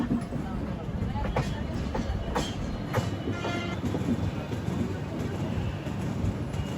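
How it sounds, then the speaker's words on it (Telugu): A train rolls at a station at Mathura Junction, with a steady rumble and clickety-clack of wheels over rails and a few sharp clanks, fairly close and continuous throughout. "అటు సైడ్ ఒక లోకోమోటివ్ వస్తుంది."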